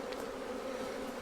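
Honey bees swarm around a hive opened for its first inspection after six or more years abandoned, a steady dense buzzing hum that stays close and continuous throughout with no talk.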